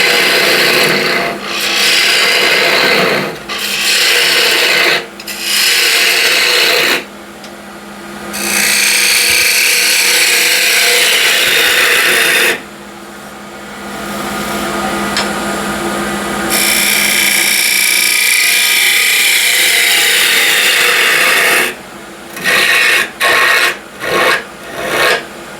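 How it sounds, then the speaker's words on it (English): A 12 mm ball gouge hollows a box of old window-sill wood on a lathe, giving loud, harsh scraping bursts that start and stop repeatedly, with long sustained cuts and short choppy passes at the end. "So I have a small flange and I can hollow the rest here. I'll use the ball gouge to do that"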